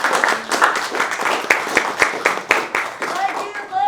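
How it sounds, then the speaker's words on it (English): A cabaret audience claps, a loose, moderately sized round of individual claps that rises and fades unevenly, with people talking over it near the end. "can we give a round of a warm applause?"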